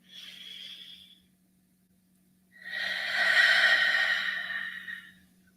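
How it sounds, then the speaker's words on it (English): Two deep breaths drawn in during a guided evening prayer, a short soft inhale followed by a longer, louder airy breath, close and alone over a faint hum. "A couple of deep breaths. Breathe in with me."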